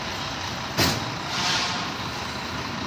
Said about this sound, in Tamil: வண்டி வெளியே வருது.